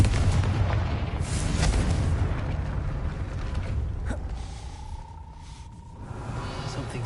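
In the video game Hogwarts Legacy, a gate grinds and creaks loudly over several seconds with heavy mechanical rumbling and thuds, then gives way to a sustained tonal hum.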